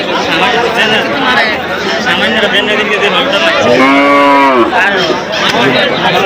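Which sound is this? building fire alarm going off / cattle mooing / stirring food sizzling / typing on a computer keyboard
cattle mooing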